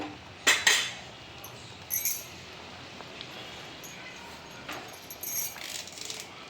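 Tamarind rice being stirred with spice powder and fresh curry leaves, giving scattered light metallic clinks and scrapes of a spoon against the vessel, a few sharper taps among quiet mixing.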